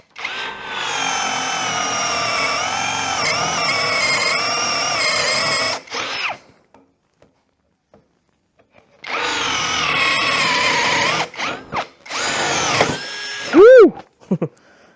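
A compact Hasston 16 V cordless brushless drill spins a 5/8 spade bit through wood, whining loud and steady for several seconds, then a pause and a second bore that ends in short bursts and a winding-down whir.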